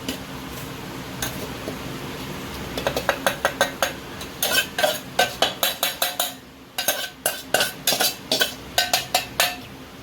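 Roasted besan laddu mixture scraped out of a pan onto a plate with a metal spoon, a run of sharp, close clinks and scrapes that quickens into a steady rhythmic tapping over a faint background hiss.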